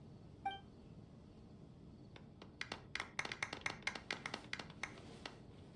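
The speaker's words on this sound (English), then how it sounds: "Let's give our champion Kaveh one last big round of applause." A small, thin round of clapping in the Genshin Impact video game at an award ceremony for champion Kaveh: scattered claps build into a brief patter after a soft chime, moderately near and fairly light.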